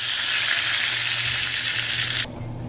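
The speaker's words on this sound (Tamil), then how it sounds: "இதிலே கறிவேப்பிலை போட்டுடணும்" Curry leaves dropped into hot tempering oil for pasi paruppu sambar, giving a loud, dense hiss of spattering oil up close that cuts off abruptly near the end, leaving a low hum.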